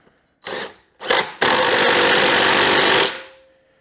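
Impact wrench driving the blade bolt back into a Lawnboy walk-behind mower: two short bursts, then a loud sustained rattling hammer for about two seconds that winds down, very close.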